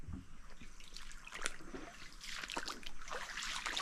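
Steady rain falling nonstop on an Andaman island, a dense continuous wash of drips and patter with brighter splashes near the end, fairly close and unbroken, with no voices.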